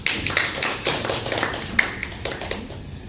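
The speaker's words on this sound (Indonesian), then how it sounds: "Suatu apresiasi dan tepuk tangan buat Pak Kristanto." Applause for a retiring official, Pak Kristanto, at his farewell gathering with DKP 3 extension staff: a room full of people clapping in a steady, dense patter of hand claps that runs for about three seconds.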